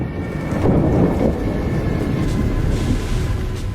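Steady, loud rain falls in a jungle, filling the scene with a dense wash of noise and low rumbling, no voices.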